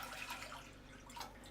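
Water runs and splashes steadily for a moment as three cups are poured into a pot to be boiled for black sugar tapioca pearls, a soft continuous pour with no talking.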